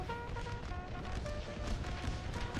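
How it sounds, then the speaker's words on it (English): Massed musket volleys from Civil War-era infantry lines in Napoleon: Total War crackle continuously in a dense, distant rolling barrage, with no talk over it. "11th North Carolina shooting at the flank there."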